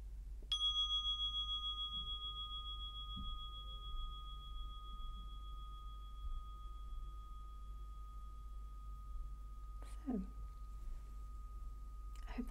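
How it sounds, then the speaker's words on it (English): Meditation bell struck once near the start, ringing with a clear sustained tone that slowly fades over a quiet low hum, with faint rustles and a brief murmur of a voice later. "the bell will sound."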